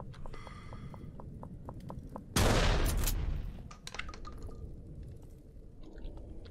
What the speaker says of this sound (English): Finish off the shotgun.